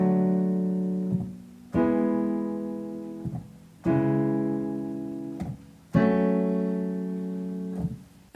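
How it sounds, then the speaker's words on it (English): Four sustained piano chords of the Royal Road progression, plain triads with no sevenths, each struck firmly and left to ring and fade, played slowly in sequence with no voices, clear and close. "So the basic chord progression, no sevenths, no modifications to any of the chords, sounds like this."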